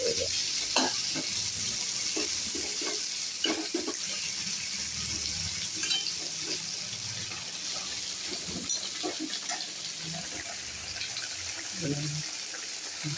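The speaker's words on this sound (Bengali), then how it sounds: "এইদিকে আমার করলা ভাজা করছে" Bitter gourd, soaked beforehand in salt water, fries steadily in a pan with a constant sizzle, with scattered stirring clicks and occasional faint tap-water noise throughout.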